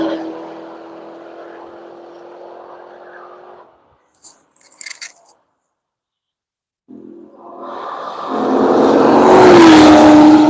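The Goodyear Camaro race car passes on the Road Atlanta circuit during a track session. Engine drone fades to silence, a few faint clicks follow, then the car rushes in and roars loudly past, its pitch sweeping down.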